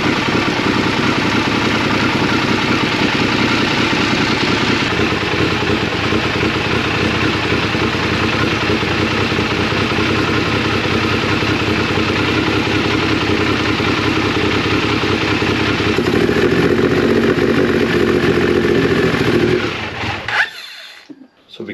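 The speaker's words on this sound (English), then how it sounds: "I'll just warm the bike up and when we're ready, I'll just show you the gauges" A Triumph Daytona 955i motorcycle engine idles steadily while warming up during an engine service, a loud continuous close-up drone that holds for about twenty seconds before cutting off abruptly.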